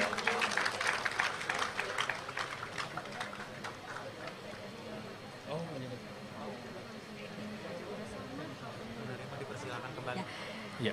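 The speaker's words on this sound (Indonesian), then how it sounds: "Boleh tepuk tangan sekali lagi, hadirin sekalian" An audience at the Indonesian Independence Day ceremony at the Nusantara capital palace applauds, a crowd clapping most strongly in the first seconds and fading under an announcer's steady talk.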